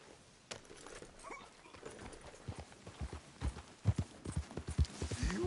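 Horse hooves clip-clop in Red Dead Redemption 2, starting faint and growing into a steady, fairly close rhythm of thudding steps with no talking.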